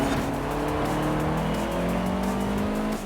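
Car tires squeal and skid under late braking in a snowy Forza Horizon 4 race, steady and loud for the whole stretch, with a high-pitched engine whine rising through it and no talk.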